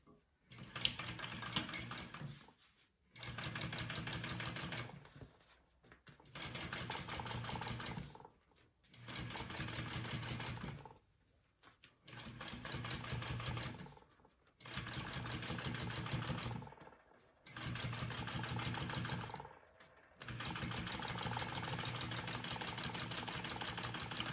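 A sewing machine top stitches a handbag seam in a series of steady mechanical runs of several seconds each, broken by short pauses, close and fairly quiet.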